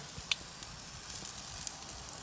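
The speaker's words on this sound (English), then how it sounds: "Ooh, sizzle." A steak burger sizzles quietly on a grill, a faint steady crackle with a couple of sharp pops.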